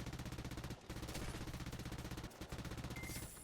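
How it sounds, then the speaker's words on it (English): Rapid, steady machine gun fire from an aircraft in the video game War Thunder, interwar French planes, sounds as a continuous rattling stream with two brief pauses, heard alone without talk. "He's still shooting at us."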